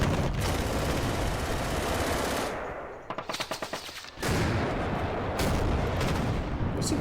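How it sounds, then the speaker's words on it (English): Sustained, dense rumbling gunfire from 88 mm artillery pieces in the Panzer Campaigns Kiev '43 video game, loud and continuous, broken by a short stretch of rapid rhythmic shots before the barrage resumes. "No, he's got artillery pieces there. Hammering with 88s."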